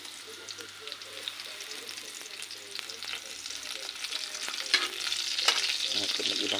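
Onions frying in a pan give a steady close sizzle with scraping stir strokes that grow busier and louder toward the end.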